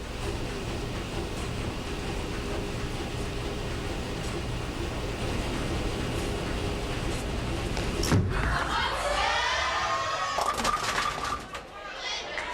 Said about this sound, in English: The UCF bowling team here in attendance cheering her on.